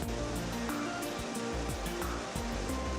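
Victoria Falls roaring as a steady, dense wash of falling water, loud and close, with no gaps and a broad even rumble throughout.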